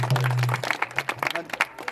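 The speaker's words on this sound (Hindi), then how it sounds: "एक बार तालियां बजाओ।" An audience at a village awareness event on women and child welfare claps in crisp, uneven bursts of hand claps. The clapping runs underneath people talking nearby.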